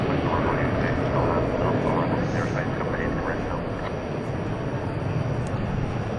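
A Frontier Airbus A321neo lands at a busy airport, a broad, steady jet roar heard from a distance beneath continuous commentary.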